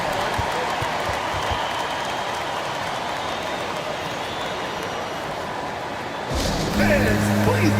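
Video game crowd noise from NBA 2K24: a large basketball arena crowd applauds in a sustained, dense roar of clapping and cheering, shifting to a louder, different mix of noise near the end.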